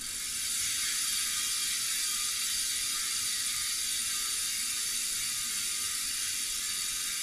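Hunt Enduro Wide mountain bike wheelset freehub with five degrees of engagement: a fast, even, continuous ratchet buzz from the freewheeling hub, close up and steady throughout with no talking.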